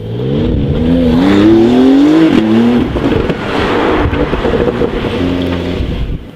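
Deep, throaty exhaust note of a Porsche 911 (992) with a Quicksilver aftermarket exhaust, rising and falling as the engine revs, loud and close, with a steady rumbling drone underneath.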